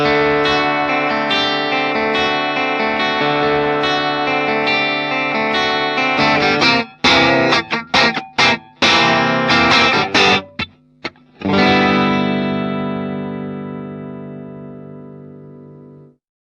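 Electric guitar played through a Vox AC30CC amp via the top boost input at low gain, a loud, chiming tune of sustained chords, then choppy staccato strums and a final ringing chord that fades out.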